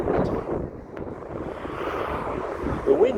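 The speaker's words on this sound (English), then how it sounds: "wind is terrible today" Strong wind buffets the microphone outdoors near a building demolition site, a loud, steady rumbling roar with gusty surges and no speech.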